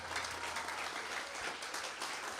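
A church congregation applauds during a Spanish-language sermon, a steady, moderately distant wash of clapping lasting a couple of seconds.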